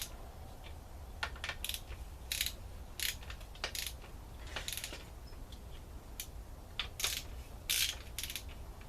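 A hand ratchet clicks in short bursts while cylinder head bolts are snugged down on a new VTEC engine head fitted to a Honda Accord wagon, crisp close pawl ticks separated by pauses between strokes.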